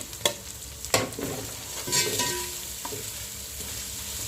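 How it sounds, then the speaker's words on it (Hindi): Ginger and garlic sautéing in a pan with green onion greens and whites for Schezwan noodles, a steady close sizzle broken by several sharp scraping stirs of a utensil against the pan. "बस हम इसमें अदरक लहसुन में थोड़ा सौटे कर लेंगे"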